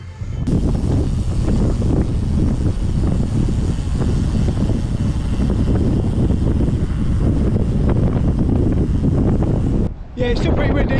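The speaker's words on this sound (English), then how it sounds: "Yeah, it's still pretty windy, but not as bad as yesterday." Loud, constant wind buffeting the microphone for several seconds, a heavy roaring rumble that cuts out briefly near the end.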